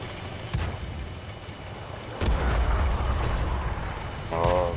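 Tank cannon shots in a war video game, heard as a heavy low boom with a rumbling tail, preceded by a lighter thud and followed by a brief mechanical whine, with continuous engine-like rumble underneath.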